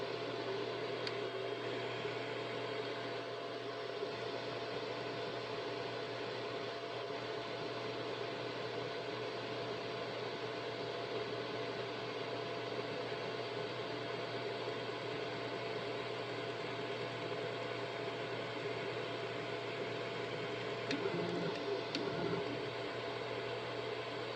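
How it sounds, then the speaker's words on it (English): A 3D printer runs steadily in a quiet room, giving a constant mechanical hum and whir with faint motor tones and no traffic, holding at one level throughout. "It is my 3D printer. It's usually always on the go at the moment."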